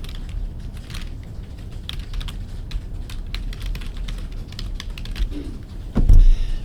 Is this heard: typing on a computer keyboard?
yes